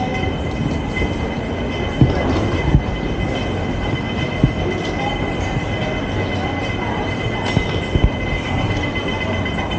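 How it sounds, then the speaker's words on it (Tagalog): Train running on rails on a Hong Kong–Macau trip, a loud continuous rumble with rolling wheel noise and occasional sharp clicks and clanks, heard from on board without talking. "Ah, train na pala"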